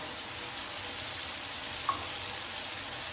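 Ground spices with chili, salt, coriander powder, garam masala and biryani masala sizzling in a pan for chicken pulao, a steady soft frying hiss with no talk.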